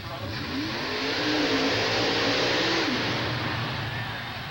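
A fuel-injected small-block V8 monster truck of about 2,700 pounds on a racing run at a USHRA San Diego event, its engine roaring and rising in pitch then easing off over broad crowd and arena noise.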